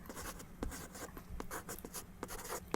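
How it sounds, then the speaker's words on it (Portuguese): Pen or pencil sketching a hyperboloid diagram by hand on paper, a faint, close series of short scratchy strokes and taps in an irregular rhythm, with no talking. "Vou desenhar aqui no cantinho"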